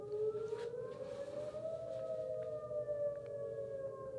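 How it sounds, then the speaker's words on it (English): A long, wailing tornado warning siren drones steadily from a distance, its pitch slowly rising and holding, over faint background noise with no voices. "Longest siren ever."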